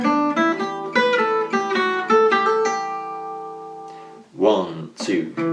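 Two bars played on a jazz manouche guitar with a triplet and hammer-on and pull-off: quick plucked, bright notes for under three seconds that ring out, followed by someone speaking briefly.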